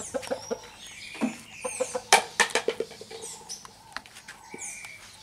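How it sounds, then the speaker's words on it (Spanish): Rooster and laying hens on a small farm in Barinas, Venezuela, clucking in a steady stream of short, close calls with a few sharper squawks, with no talking. "El hermoso gallo."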